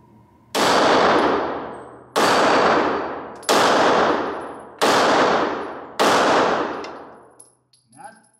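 Five loud, evenly spaced Ruger Security 9 pistol shots ring out, each a sharp crack with a long metallic ring as it strikes a steel target, the ring decaying before the next shot.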